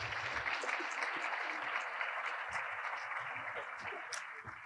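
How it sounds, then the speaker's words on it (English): Audience applause for panelists at a women's leadership event, a steady wash of many hands clapping that holds evenly throughout and tapers slightly near the end. "Let's give another round of applause now to our panelists"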